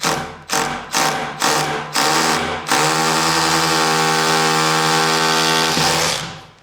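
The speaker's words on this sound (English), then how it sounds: "Let's drill a hole" A handheld power drill boring a hole in a garage DIY setup for 5mm hardware: several short loud bursts of whining motor, then one long continuous run, close and with no talking.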